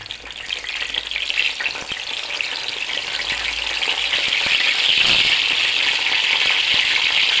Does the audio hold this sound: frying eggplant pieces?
yes